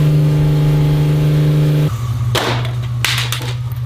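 A Volkswagen Golf 8 GTI engine drones loudly at steady revs, then drops off sharply and falls to a lower hum, with a few bursts of rushing noise toward the end, close and with no talking.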